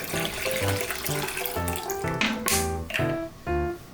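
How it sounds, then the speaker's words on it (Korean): Five hundred millilitres of water poured into a pot for ramen, a steady running splash that continues throughout the short stretch, with tonal background sound alongside. "물 500ml를 부어줍니다"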